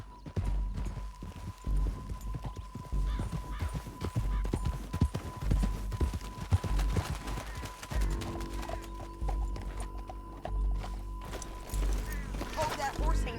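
Video game horse hoofbeats clop along in a rhythmic trot under a low hum, with a horse's snort or whinny near the end; no speech is heard. From Red Dead Redemption 2.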